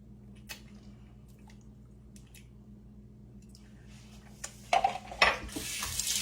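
A dish is washed in a kitchen sink, with quiet background hum at first, then water splashing and scrubbing, plus a few clinks, growing louder toward the end.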